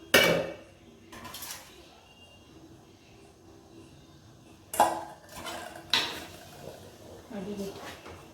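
Aval laddu mixture is stirred in a metal vessel, giving scattered scraping and clinking knocks with a few sharper clanks. The sounds are irregular and close, heard against a quiet room.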